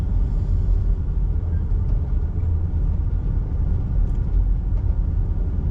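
Road traffic rumbles past near a scrapyard on a scrap metal run, a continuous low engine drone with a few faint higher clicks and no speech.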